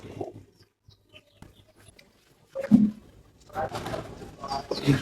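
Soft cooing from pigeon chicks in a pigeon loft and low bird murmurs close by, with quiet rustling and fluttering, growing busier and louder toward the end.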